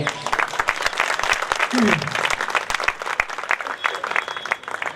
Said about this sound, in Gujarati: આપણે ફરી એકવાર વક્તાશ્રીને 2 હાથની તાળીઓથી વધાવીએ.